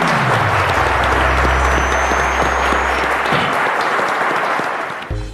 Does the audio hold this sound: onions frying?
no